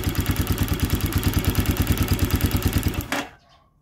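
A motorcycle engine idling with a quick, even pulsing chug that runs steady and close, then cuts off abruptly near the end, leaving a brief fading tail.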